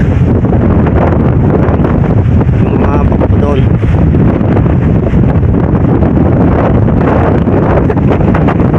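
Loud, constant typhoon wind buffeting the microphone beside a swollen river, a heavy roaring rush throughout, with someone talking underneath it.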